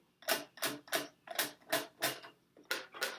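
Eight sharp guitar chords strummed over the sound hole in an uneven rhythm, each a quick bright burst that rings briefly before the next, close up and fairly loud.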